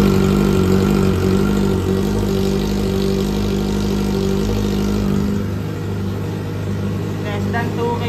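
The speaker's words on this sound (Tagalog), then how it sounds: "Try natin i-dB meter. Check lang natin kung gaano kaingay. No muffler." A Kawasaki ZX-4RR motorcycle with no muffler runs at under 2,000 RPM, a loud, steady, low engine drone with a continuous rumble close by. There is no speech.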